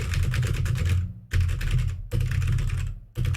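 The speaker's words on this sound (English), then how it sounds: "This is what he sounded like typing these notes" Fast typing on a computer keyboard comes through as three dense bursts of rapid clicking separated by short pauses, loud and close, with no talk.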